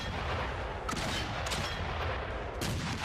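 Gunfire in the World War I game Valiant Hearts, a dense rumble of shots and blasts with several sharp bursts over continuous loud noise.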